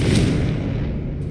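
The Confringo blasting spell is cast in Hogwarts Legacy, a short booming fiery burst with a low rumbling tail that fades over about a second.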